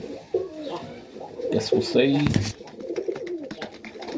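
Young Serbian Tippler pigeons cooing in a loft, soft repeated coos close by, overlapping with someone speaking.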